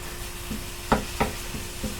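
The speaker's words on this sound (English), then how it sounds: "There's that meat is cooking and browning." Regular hamburger meat frying and browning in a pan: a quiet, steady sizzle broken by a few sharp spatula scrapes and stirring knocks, with no talking.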